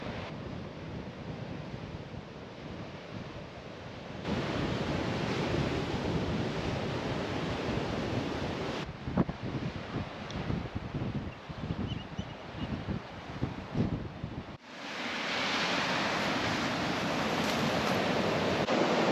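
Waves wash onto a small beach at Holy Island in a continuous surf roar mixed with wind buffeting the microphone, shifting in level across several abrupt changes.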